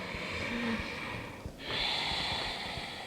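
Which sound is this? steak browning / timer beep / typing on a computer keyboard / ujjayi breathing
ujjayi breathing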